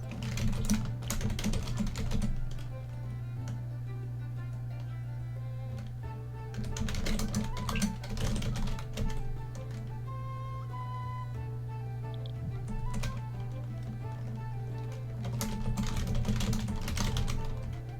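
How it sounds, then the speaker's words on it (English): Loud, rapid typing on a computer keyboard comes in three dense bursts separated by quieter stretches, playing over a steady low background hum. "I'm typing into my journal."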